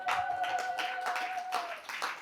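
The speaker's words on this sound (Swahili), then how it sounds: "Piga Yesu Kristo makofi ya nguvu" A church congregation at a Sunday service claps in scattered, uneven bursts, fairly faint, with a sustained tone ringing beneath the claps.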